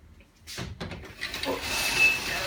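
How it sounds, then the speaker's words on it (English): A large double sliding wardrobe door in a hotel room slides along its track, a close rumbling, hissing glide with a couple of soft knocks, heard alone. "big double sliding door wardrobe, which I really like"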